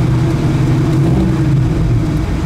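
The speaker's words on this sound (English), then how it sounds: "It sounds great for a little 307 with that dual exhaust." A loud, deep 307 V8 engine with dual exhaust in a 1969 Chevrolet Nova rumbles steadily close by, a throaty low burble with a slight rise and fall, no talking.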